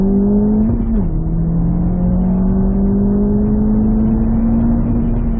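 A VW T-Roc R four-wheel drive car accelerates hard off the line on a track, its engine droning loud and steady with rising pitch and a brief gear-change dip, close and continuous throughout.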